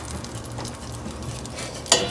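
Two tablespoons of butter melt for a roux, giving a continuous soft sizzle and crackle in the pan, with one brief clink near the end.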